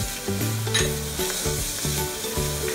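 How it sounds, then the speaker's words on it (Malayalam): Onion with salt sautéing in a pan, a loud continuous sizzle with rhythmic stirring scrapes and low clunks repeating every half second or so, no talking. "അതിലേക്ക് നമുക്ക് സവാള ഇട്ടിട്ട് നന്നായിട്ടൊന്ന് വഴറ്റിയെടുക്കാം"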